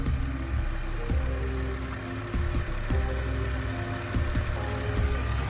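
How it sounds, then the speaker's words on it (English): A 2008 Jeep's engine idles in the open engine bay, a steady low rumble with a faint regular ticking pulse, close and even throughout with no talking. "Idling like a bee."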